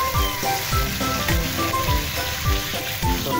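Loud, steady sizzling as shrimp paste water hits hot pinakbet vegetables in a pan, with a dense crackling hiss running throughout and a faint repeating musical pattern underneath.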